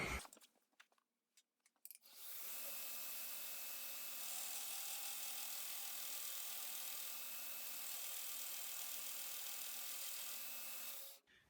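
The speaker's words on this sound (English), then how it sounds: "I just use a Norton Norax, and it's at a 200 grit. So just put that on there," Belt grinder with a Norton Norax 200 grit belt sanding a knife bevel, a steady loud whirring hiss with a constant tone that runs unbroken for about nine seconds after a few scraping clicks.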